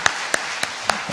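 Several hand claps sound at a slow, even rhythm, sharp and distinct, as a small church congregation starts applauding at an early-morning service.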